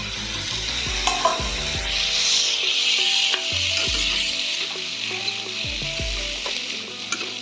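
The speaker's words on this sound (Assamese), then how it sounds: "অলপ ভাজ খোৱাৰ পাছত তাত ঢালি দিলোঁ জিকা আৰু আলুখিনি।" Jika gourd and potatoes hit hot oil with fried onion, ginger, garlic, chilli and turmeric, sizzling loudly while a spoon scrapes and knocks against the pan in repeated strokes.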